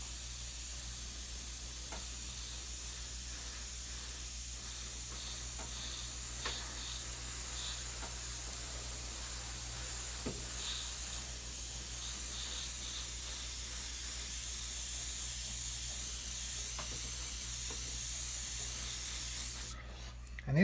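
An airbrush sprays a steady overall paint coat onto model rocks, a continuous soft airy hiss held for about twenty seconds with faint intermittent clicks, ending in a brief louder burst.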